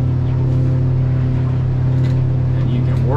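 A Weldcraft 240 Cuddy King boat running on one of its twin Yamaha F115 outboards is throttled up, giving a loud, steady motor drone with tonal whine that rises in pitch at the end.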